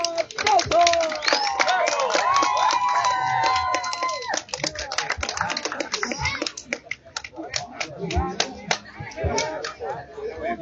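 Applause from a crowd at a national motocross award ceremony in Chilca, Peru, as the winners are named, with scattered clapping and cheers under loud, busy chatter that thins out toward the end.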